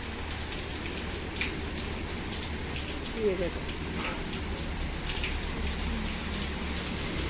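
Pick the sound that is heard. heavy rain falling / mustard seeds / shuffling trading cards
heavy rain falling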